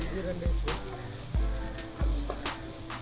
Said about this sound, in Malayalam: 2 തവി സൺഫ്ലവർ ഓയിൽ ഒഴിച്ച് ഇഞ്ചി വെളുത്തുള്ളി പേസ്റ്റ്